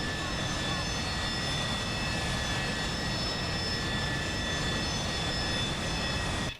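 AV-8B Harrier jet engine in the DCS flight simulator, a steady loud roar with whining high tones held constant throughout liftoff, no pauses.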